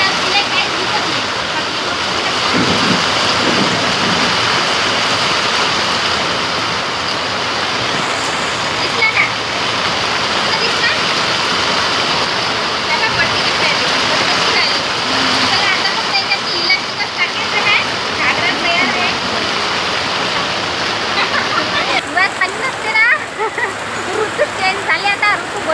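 Heavy rain falls steadily around a home, a constant loud hiss with splashes and spatter throughout, while people talk over it.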